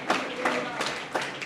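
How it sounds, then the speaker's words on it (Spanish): Church congregation clapping in a few sharp, evenly spaced bursts, roughly four strong beats in quick succession, fairly close and heard over a faint background of room sound. "Den a Dios un aplauso."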